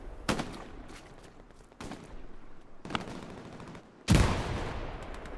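Gunfire in a video game during a multiplayer event on an Omaha Beach Vierville map, four loud bursts of shots, the last one the heaviest, each followed by a fading echo.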